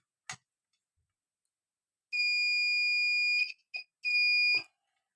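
A multimeter continuity buzzer beeping while probing a short on an Asus X441M laptop board: two sustained high-pitched tones, with a brief blip between them and small clicks of the probes.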